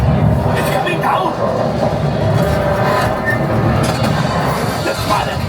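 Missiles strike a train during the Millennium Falcon: Smugglers Run ride at Disney's Hollywood Studios, producing loud sustained rumbling and clattering rail noise with bursts of impact, mixed with ride soundtrack and voices throughout.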